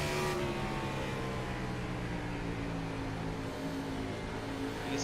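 A race car engine in a sim racing video game during a championship race at Phoenix Raceway drones loud and steady throughout, with layered harmonic whine and no voices.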